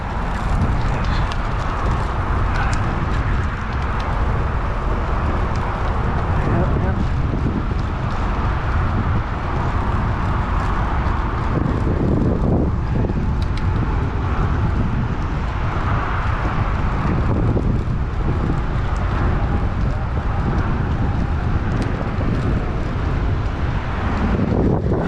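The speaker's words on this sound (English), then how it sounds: "Bit of a headwind today." Steady, loud headwind rushing and buffeting over the microphone while cycling along the coast from Dana Point to Oceanside, a continuous broadband roar with no break.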